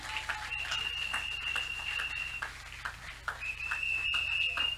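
A church congregation applauds and cheers for the King of Kings, steady clapping with shrill whistles cutting through, lively and sustained in a large room.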